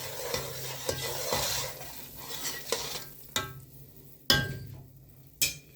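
A spoon stirs cardamom and sugar through a hot laddu mixture in a pan, with soft sizzling that fades as sharp metallic scrapes and clinks against the pan stand out alone.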